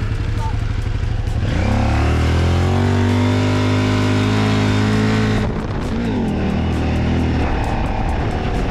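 A motorcycle revs hard at full throttle in desert sand dunes on Morocco's Rekkam plateau, its loud, close engine roar climbing in pitch and holding steady before dipping briefly and surging again.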